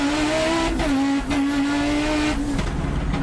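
Rally car engine, loud and close, revving hard and dropping briefly during quick gear shifts amid dense road and tire noise, with no talk over it.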